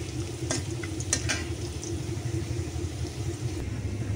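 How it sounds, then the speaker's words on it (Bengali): Potatoes frying in oil in a pan after fish, a steady close sizzle with a low rumbling undertone and a few brief crackles near the start, unbroken and without speech. "মাছটা ভাজা হওয়ার পর আমি যে আলুগুলো ভাজা নিতেছি ভালো করে।"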